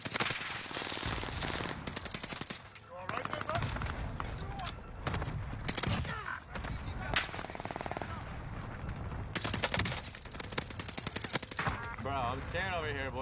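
Rapid automatic gunfire from a Call of Duty Warzone match crackles in dense, loud bursts almost nonstop, mixed with other game effects and occasional voices underneath.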